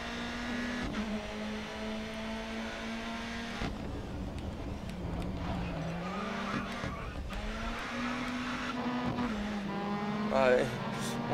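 Touring cars racing in the video game Grid Autosport, a steady engine drone with shifting pitch as tires squeal and skid, under someone talking.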